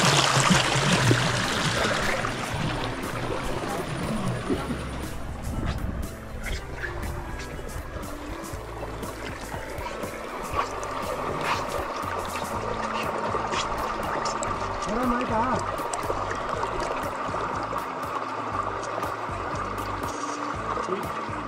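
Water flows steadily through an ancient stone temple pond at Devagange near Shivamogga, a continuous wash of rushing, trickling sound that stays even and fairly close throughout, with no voices.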